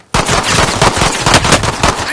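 Rapid, loud automatic gunfire from Call of Duty Warzone bursts in abruptly and rattles on continuously at close range, with no pauses.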